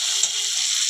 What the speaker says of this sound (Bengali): একটু পেঁয়াজটা ভাজাভাজি হোক